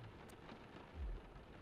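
Quiet, steady rainfall hisses softly in the Sheltered 2 video game, with a brief low rumble like distant thunder partway through and no voices.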